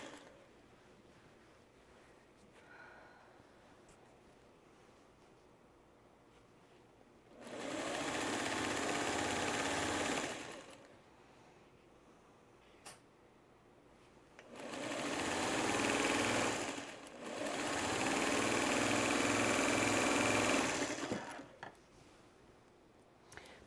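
A sewing machine stitches the flange binding on a quilt, running in three steady, fairly loud bursts of a few seconds each, with quiet pauses between them and no talking.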